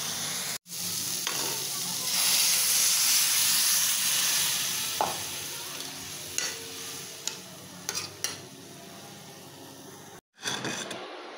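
Shrimp and potatoes fry in a pan with a steady loud sizzle, broken by scraping stirs and clinks of the spatula, briefly cut off twice, with no talking.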